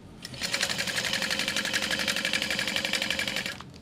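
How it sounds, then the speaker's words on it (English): A sewing machine stitches sticky TPU fabric for a bag, a steady rapid mechanical whir with fine regular needle clatter running continuously for several seconds, close and fairly loud, starting and stopping cleanly. "So the TPU is pretty sticky. So I'm sewing it this way,"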